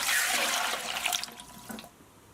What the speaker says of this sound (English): we are going to add 3 quarts of water to our pressure canner